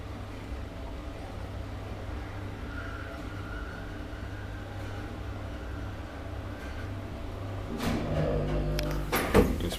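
An old Kone traction elevator in a Vantaa apartment building runs with a steady low motor hum and rumble, with no one talking, before a few louder mechanical clunks and knocks near the end of the ride.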